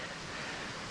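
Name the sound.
mountain stream flowing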